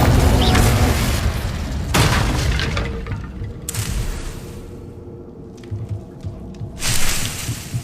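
Spell blasts from a Hogwarts Legacy duel, including the Confringo fire spell, burst as loud booming explosions amid clattering combat noise, with several heavy impacts spread across the fight.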